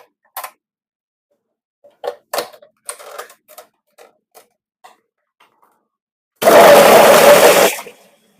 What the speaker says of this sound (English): I'm going to blend.